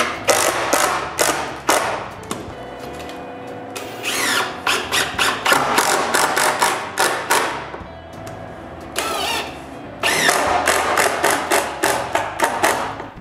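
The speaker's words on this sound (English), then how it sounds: "position it, and screw it in place" Screws driven into a wooden wall bottom panel with a power screwdriver, loud repeated bursts of rapid ratcheting clatter with short pauses between, close up and no talking.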